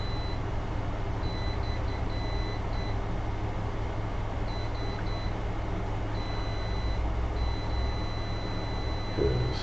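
Faulty PC battery backup pack beeping repeatedly in the background, thin high-pitched tones in short clustered bursts with pauses over a steady room hum.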